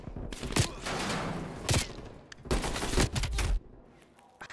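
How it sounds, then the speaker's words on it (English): Call of Duty Cold War gunfire hitting a player through a wall: bursts of close, loud shots in rapid volleys with short gaps, the firing coming in several clusters and tailing off at the end, no talk. "I got shot through the wall."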